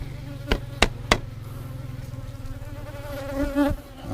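A small hive beetle buzzes near beehive frames during wax foundation work in Texas: a close, continuous insect drone runs throughout, broken early by three sharp knocks.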